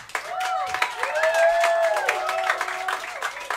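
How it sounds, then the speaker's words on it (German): A live concert audience at the Blue Note jazz club in Dresden breaks into steady applause mixed with high whoops and cheers, lively and close throughout. "Einen kräftigen Applaus für Neil Richter am Bass."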